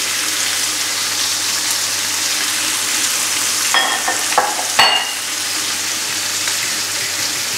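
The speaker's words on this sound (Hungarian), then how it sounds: "És a reszelt sajtot is keverni kell benne alaposan." Grated cheese is stirred into carbonara pasta sauce in a home kitchen, giving a constant wet hiss with a few scraping clinks of the utensil against the pan near the middle. No one speaks.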